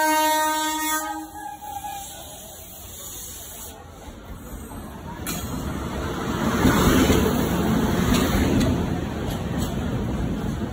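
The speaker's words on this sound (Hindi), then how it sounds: "सरायमीर स्टेशन पे पहुंच चुके हैं और ट्रेन देखिए बस आ चुकी" A train pulls into Sarai Mir station with a loud horn blast at the start, then steady rumbling and clatter of rail cars rolling close by, growing fuller as it arrives.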